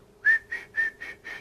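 A person whistles five short, high-pitched notes in an even rhythm, imitating birdsong. The notes are clear and close, with no talking.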